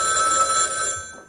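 An old telephone bell rings in a short, loud, shrill burst on a comedy stage, close and clear with no voices over it.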